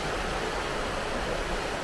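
A continuous, even hiss of fast-running water from the swollen River Spey fills the short stretch, nearby and unbroken, with nobody speaking.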